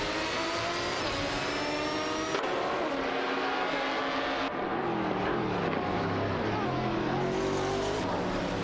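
A Ferrari 575 GTC and a Maserati MC12 race cars in a video game roar as they speed along, with steady, high-pitched engine whine that shifts pitch and overlapping tones as the cars gear up.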